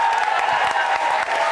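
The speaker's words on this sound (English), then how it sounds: "Round of applause for Alistair." Audience applause for a guest on a London talk show, loud and continuous with a few scattered cheers, a crowd clapping close for a short burst.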